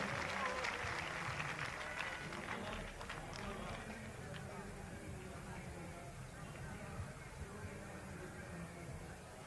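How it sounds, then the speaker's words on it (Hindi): An audience at a Hindi poetry gathering (kavi sammelan) in Bhilwara, Rajasthan applauds to welcome a poet: dense, sustained clapping from a large crowd that stays steady throughout, with a voice speaking over it. "पूरा सदन एक बार दोनों हाथ उठाकर ताली बजाकर आदरणीय का अभिनंदन करें, स्वागत करें।"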